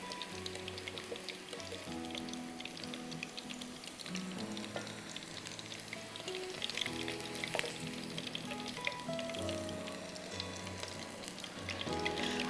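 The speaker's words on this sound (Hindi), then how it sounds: "मैं ये पूरी चिकन को वापस फ्राई कर रही हूँ" Whole pieces of chicken sizzle steadily as they are fried a second time in a pan, a continuous crackling hiss with scattered pops that stays fairly even and close throughout, with no talking.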